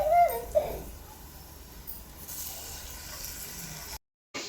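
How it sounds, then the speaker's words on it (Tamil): Chopped onions and tomato frying in a pan for sambar: a steady, close, moderate sizzle with faint clatter at the start, cutting out abruptly near the end. "வெங்காயம் நல்லா வதங்கிடுச்சு, தக்காளி சேர்த்துக்கலாம்க்கா"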